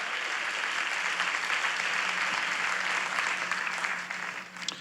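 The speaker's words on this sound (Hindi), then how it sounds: "यीशु तालियों की भेंट चढ़ाकर हालेलुया।" A church congregation claps in praise, sustained dense applause filling the room before tapering near the end.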